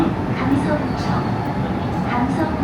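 A Busan Metro Line 3 train rolls into a station with a steady, close rumble and rail noise, a dull mechanical drone that fills the whole stretch, while a voice talks faintly over it.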